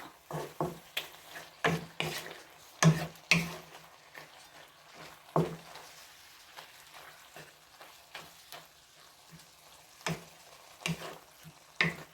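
Squid and egg are stir-fried in a pan, with a sizzling base under repeated sharp scraping and stirring strokes of a utensil, close and irregular, with no talking.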